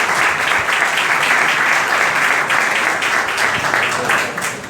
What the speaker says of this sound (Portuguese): E eu quero pedir a todos uma salva de palmas